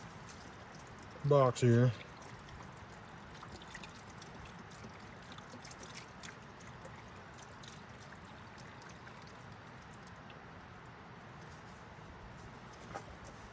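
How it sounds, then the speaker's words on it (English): Beef broth pours from a box carton into a pot of cowboy stew as a long, steady, soft trickle. A brief spoken phrase comes near the start. "I'm gonna fill it up with beef broth"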